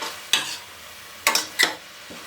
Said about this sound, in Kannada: ಇವಾಗ ಇದನ್ನು ಚೆನ್ನಾಗಿ ಮಿಕ್ಸ್ ಮಾಡ್ಕೊಳ್ಳೋಣ.